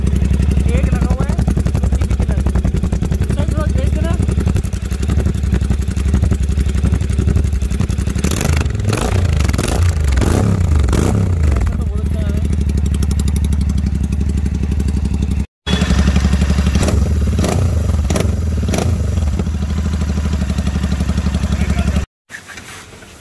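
A motorcycle with a newly fitted exhaust, one of two pipes installed, idles with a deep throbbing rumble and then revs in bursts, with clattering and someone talking over it.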